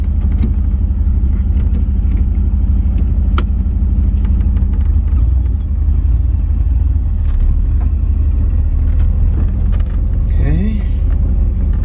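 A 1970 Corvette with a 454 engine driven slowly on a dirt driveway, a loud, deep, continuous engine rumble with a brief rising rev near the end.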